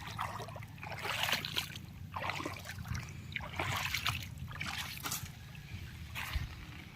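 River water flowing and sloshing at Malampaya, a soft close trickle with irregular splashy surges rising and falling over a low steady background.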